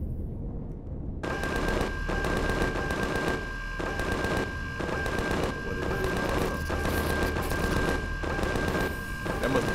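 Gunfire in the space survival game Empyrion Galactic Survival bursts in after a quiet second, rapid automatic shots rattling steadily and loudly for the rest of the stretch, with a tonal hum underneath.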